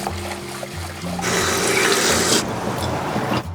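Peeled shrimp are rinsed under a running kitchen tap, water rushing steadily into the sink nearby with a louder gush in the middle.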